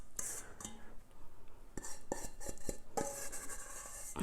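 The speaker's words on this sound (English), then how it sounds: "Make sure you get all of the bits in the bottom of the saucepan" A spoon scrapes and stirs a sticky rocky road mixture around the bottom of a saucepan, giving a series of close, sharp clinks and scrapes with quiet gaps between them.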